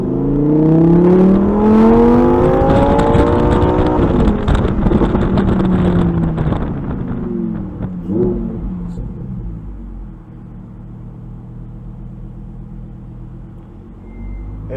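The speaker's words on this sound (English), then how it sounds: "I love that exhaust." A 2022 Lamborghini Huracan EVO RWD Spyder exhaust roars while driving with the top down, a loud rising and falling engine note with gear shifts that settles to a lower cruising drone, with wind noise throughout.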